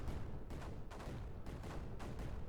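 Cannons fire in the video game Creeper World 4 as a string of repeated booms, roughly five or six dull blasts over a few seconds at a steady pace, moderately loud with no talk over them.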